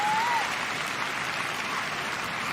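Crowd applause after an athlete's jump at a para athletics world championships in Kobe, a broad steady wash of clapping throughout the clip, fairly loud and alone with no voices.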